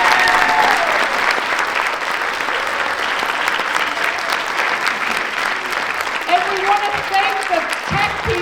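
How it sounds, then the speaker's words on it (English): Sustained audience applause for the cast of a stage play, loud and dense, fills the whole stretch, with a voice briefly audible near the end. "But another round of applause for this great cast."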